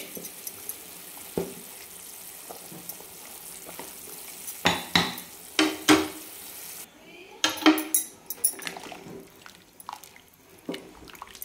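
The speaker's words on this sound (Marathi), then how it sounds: "तांदूळ टाकून पूर्ण ढवळून घेणार आहेत आपण" Rice goes into a pot of boiling water and gets stirred, with a bubbling, sizzling wash under a series of scraping and clinking strokes of a utensil against the pot, close and intermittent.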